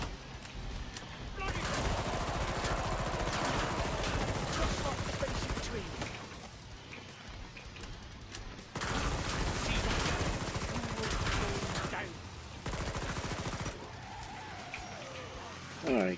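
Rapid video game gunfire from Killing Floor 2 in a final zombie level, dense sustained bursts with brief pauses, loud and continuous throughout.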